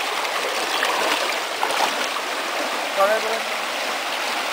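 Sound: clear flowing water

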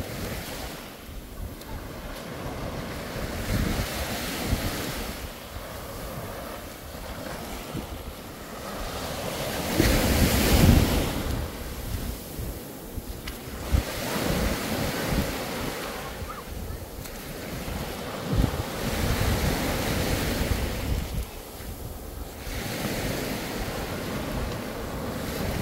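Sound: sea waves breaking at a bay beach

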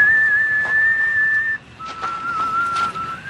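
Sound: person whistling

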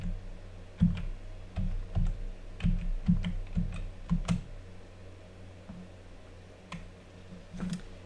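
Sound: typing a download code on a computer keyboard

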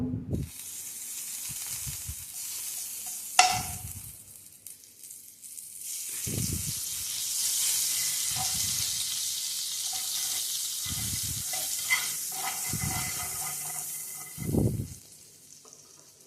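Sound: pav bread frying in garlic butter on tawa

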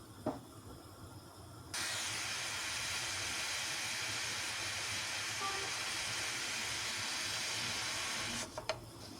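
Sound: steam released from pressure cooker with eggplant kebab

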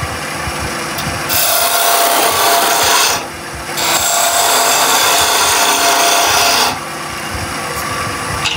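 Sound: wood turning on a lathe, rounding an edge

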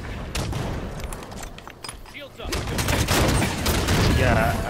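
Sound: rocket launcher firing slow rockets in Halo 5 video game

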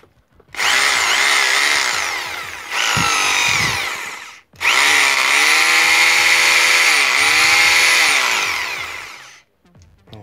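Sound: Makita HR2470 rotary hammer drilling in hammer mode

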